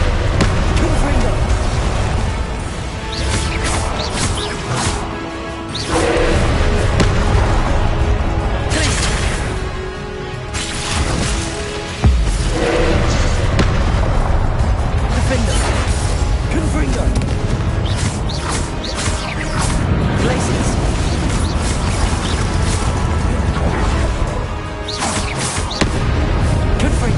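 Spell blasts and explosions crash through a Hogwarts Legacy duel, dense and loud for the whole stretch, with sharp bursts piling over busy combat noise and a voice speaking throughout.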